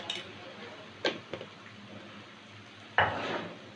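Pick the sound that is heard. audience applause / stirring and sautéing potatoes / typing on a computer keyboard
stirring and sautéing potatoes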